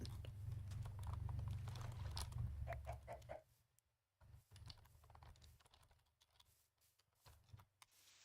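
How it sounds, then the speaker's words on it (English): Keyboard typing dominates the first seconds, then sparse soft clicks follow; a quiet Minecraft chicken clucks faintly beneath the clicking. "Chicken."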